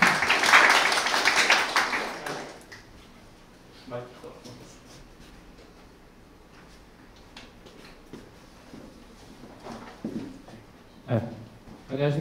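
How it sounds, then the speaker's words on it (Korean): A burst of audience applause at a university startup event opening fills the first couple of seconds, then fades into a quiet room with scattered small noises and faint sounds. "박수로 마주해 주시길 바랍니다."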